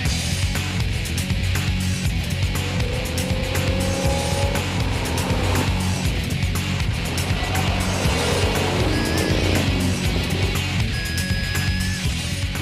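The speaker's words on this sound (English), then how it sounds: "You get that great kind of American V8 sound that really no other car can produce." A 1968 Ford Mustang Fastback's V8 engine drives by loudly, a steady throaty roar with rising and falling revs and brief tire squeals, heard close and alone without talk.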